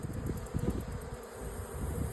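Honeybees swarm around a hive, their dense buzzing droning continuously and softly at a moderate distance, with no voices.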